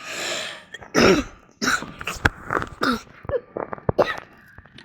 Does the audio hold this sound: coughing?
yes